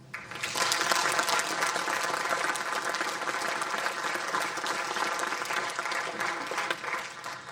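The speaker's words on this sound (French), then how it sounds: "Merci pour les applaudir." A hall audience applauds rescue services, sea rescuers and firefighters, at a mayor's New Year greetings in Capbreton, with steady, dense clapping sustained from start to finish at fairly close range.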